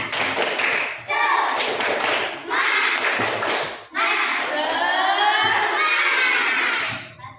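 Schoolchildren in a classroom perform a rhythmic clapping chant, bursts of sharp group claps in quick patterns mixed with loud shouted voices, repeated in several phrases close by.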